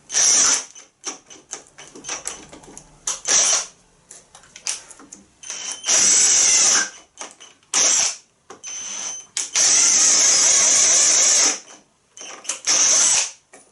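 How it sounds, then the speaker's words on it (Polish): A MEEC TOOLS 008199 cordless drill-driver drills with a bit in repeated loud whirring bursts, starting and stopping with short pauses between runs, some bursts straining as it struggles. "Wkrętarka nie daje rady, ale samo wiertło,"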